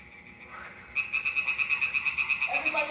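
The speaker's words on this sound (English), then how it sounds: "Tree frog, they lay eggs." European tree frogs (Hyla arborea) calling in a steady, rapid series of loud, close croaking pulses that begin about a second in and continue, with more frogs joining toward the end.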